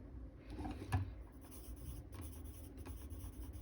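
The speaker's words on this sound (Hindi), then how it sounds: "यहाँ पे मैं आंसर्स लिख रही हूँ" Steady scratchy strokes of a pen or marker writing answers on a board or page during a class lesson, with a low room murmur behind and no talking.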